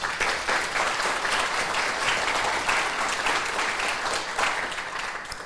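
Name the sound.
applause for the mural artists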